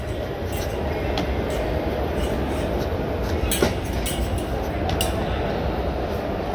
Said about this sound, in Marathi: ट्रेन आली.